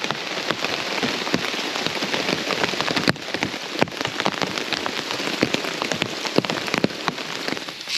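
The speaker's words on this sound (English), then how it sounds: "just listen to the rain on the tarp" Steady rain patters on a taut tarp during a storm on Dartmoor, with dense, irregular drops and sharper nearby taps, continuous and close.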